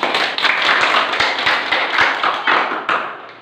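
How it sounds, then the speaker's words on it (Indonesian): A classroom of students claps together in a steady, loud round of applause lasting a few seconds, with sharp overlapping hand strikes throughout. "Kita tepuk tangan semuanya."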